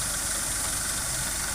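A farm tractor's diesel engine runs steadily at idle, a continuous close rumble with no pauses and no one talking.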